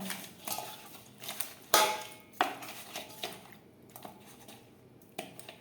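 Koi fish being mixed by hand with salt and turmeric in a bowl for Bengali tel koi: quiet, irregular squishing with occasional sharp clinks against the bowl, heard up close.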